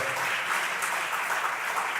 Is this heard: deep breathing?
no